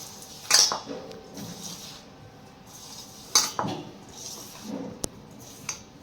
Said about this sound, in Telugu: ఇప్పుడు కలిపేద్దాం. ఇదంతా చేయబెట్టి బాగా కలిపేసుకుందాం.